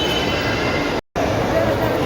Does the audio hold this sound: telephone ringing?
no